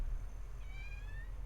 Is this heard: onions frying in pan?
no